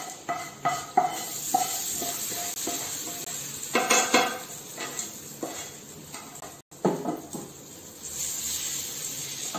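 Hot tempering poured into coconut chutney in a home kitchen, opening with clinks of a pan and spoon, then a sharp burst of sizzling and crackling that fades into a soft hiss, with stirring and utensil taps.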